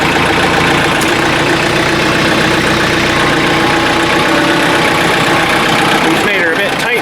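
A parked tractor's engine idles in a steady, loud, unbroken drone at a deck-building site, a rough low rumble that holds level throughout with no revving.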